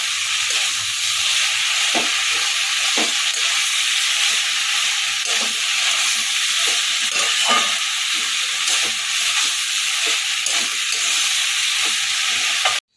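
Prawn chorchori with winter vegetables sizzles loudly in a pan while being stirred, with a steady frying hiss broken by regular scraping strokes of the spatula.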